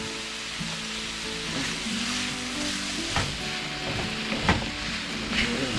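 Mushrooms and onions seasoned with salt, pepper and garlic sizzle steadily on a Pit Boss griddle, a soft continuous frying hiss broken by occasional scraping stirs of a spatula.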